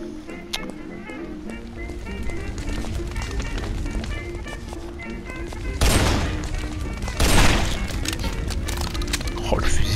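Rifle gunfire from the Guns, Gore and Cannoli video game, with two loud sharp blasts standing out over constant game noise and a busy background bed.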